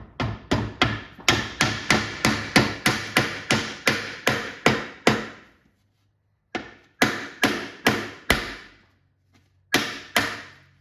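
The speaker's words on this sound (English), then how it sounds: "I'm kind of holding the control panel off the ground when I'm hammering it" A steel arcade control panel, held just off the ground, is struck by a hammer in a fast regular series of ringing blows, then a pause, another burst of strikes, and two final hits.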